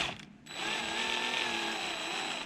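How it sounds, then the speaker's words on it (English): A steady, continuous whine of a power drill running close by, starting after a brief pause and holding an even pitch to the end. "I might try and drill this a little bit higher."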